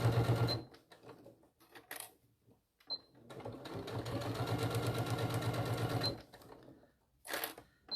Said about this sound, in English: And then sew that in.